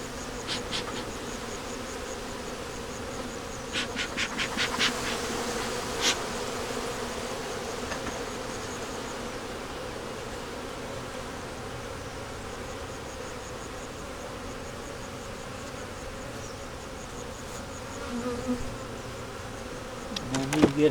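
A constant, close drone of honey bees swarming around an open backyard hive during box reversal, holding a steady level throughout, with a few faint clicks and knocks.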